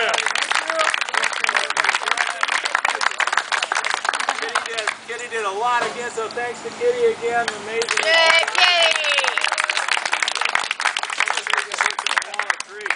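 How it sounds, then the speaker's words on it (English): Crowd clapping and cheering at an outdoor church summer barbecue, busy and close, broken by a stretch where someone talks and people respond before the applause swells again. "so let's give a big round of applause"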